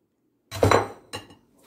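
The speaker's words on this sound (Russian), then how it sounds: "Хорошенько перемешиваем." A utensil clinks against a pot while stirring marinade for pickled cucumbers off the stove, two short metallic knocks with a brief ring, otherwise quiet.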